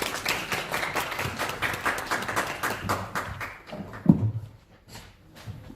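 Applause from a seminar audience in Korea, a steady patter of many hands clapping that fades out near the end, leaving a quieter room.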